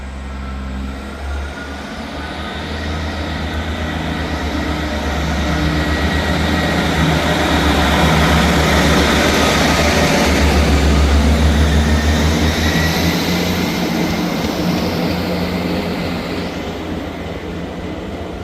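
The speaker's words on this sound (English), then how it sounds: "Departing out now is the 11:40 ScotRail service from Perth to Edinburgh Waverley." A ScotRail service from Perth to Edinburgh Waverley departs Edinburgh Gateway station with a loud, close, sustained rumble and rising engine drone that swells and then slowly eases as it pulls away.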